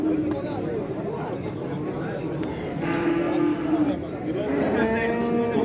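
Large oxen low and moo at a busy Wednesday livestock market in Shahrisabz, deep drawn-out calls rising over a dense crowd of talking voices and general market bustle.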